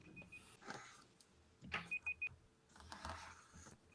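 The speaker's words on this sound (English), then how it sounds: "is that the timer?" Three short, high electronic timer beeps in quick succession, faint against quiet room noise with some low rustling before and after.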